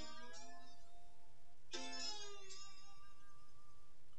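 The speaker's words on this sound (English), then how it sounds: "A porcelain slide produces a sound like this." Porcelain slide on waldzither strings: a short sliding note, then a stronger bright strum-like attack with ringing overtones that bend and slowly decay, played close and solo without any voices.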